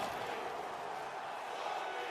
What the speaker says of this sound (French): On entend la foule qui se manifeste, là.